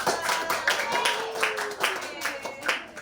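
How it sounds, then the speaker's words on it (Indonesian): Clapping for a student group after their presentation in a classroom, light scattered hand claps from a small group, quiet and uneven, with some voices underneath. "tepuk tangan dong buat kita"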